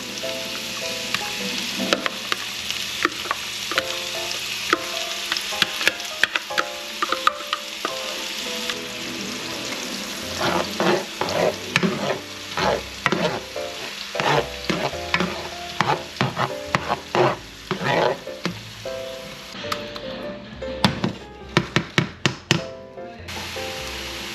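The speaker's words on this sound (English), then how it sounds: "I'm gonna add the mushroom paste to it." Mushroom paste and garlic sizzle steadily in a hot pan while a utensil stirs and scrapes, giving close, irregular knocks and taps against the pan over a continuous frying hiss.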